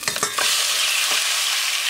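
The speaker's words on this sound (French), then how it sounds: "mettre ma poêlée de champignons" Mushrooms sizzle loudly in olive oil in a hot pan after a few quick stirring scrapes, the frying hiss holding steady.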